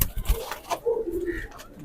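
A caught pigeon gives a short low coo, heard close over faint background noise and some handling sounds.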